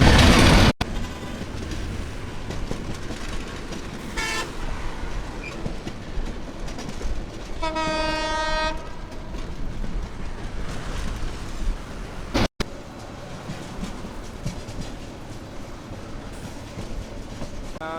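A train rolls past near the Jamuna Bridge railway station in Bangladesh, a steady loud rumble and clatter of wheels on rails, with a tonal horn blast sounding for about a second midway. No one speaks.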